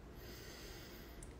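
A deep inhale through the nose during a guided Reiki breathing exercise, a steady close breathy rush filling the whole moment with no talking over it.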